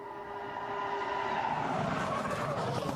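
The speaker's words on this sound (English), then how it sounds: "Rush of sound as the car is sucked towards the apex of the hairpin, launching it out again" Formula One car braking into a hairpin during qualifying at the 2005 Chinese Grand Prix: a high engine whine that drops in pitch, then a rising rush of noise as the car turns and accelerates out.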